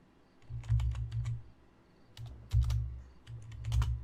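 Typing on a computer keyboard comes in three quick bursts of close, crisp key clicks separated by short pauses, with no talking.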